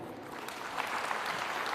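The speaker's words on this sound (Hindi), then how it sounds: "उसको भी जोरदार तालियां दे दीजिए।" Congregation at a Catholic church gathering in Jhingo claps for a person, a short burst of many hands that swells slightly after a moment and continues to the end.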